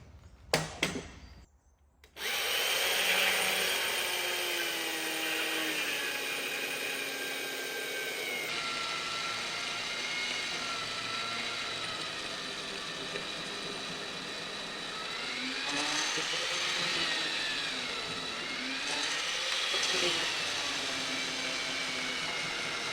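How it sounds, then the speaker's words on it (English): A power tool cuts mortises into a timber beam for a post-and-beam frame, running as a loud, steady whine with the pitch shifting under load for about twenty seconds after a brief start. "that's mortises finally cut off."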